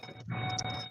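A car interior gives off a steady electronic warning beep, a thin sustained chime heard up close for under a second, with no talking over it.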